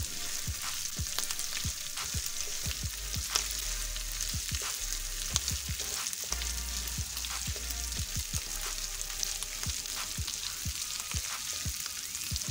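Masala spices frying for keema in a pan, a steady close sizzle with frequent small crackles and pops throughout, no talking.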